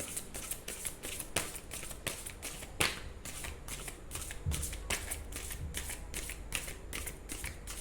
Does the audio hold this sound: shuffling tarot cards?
yes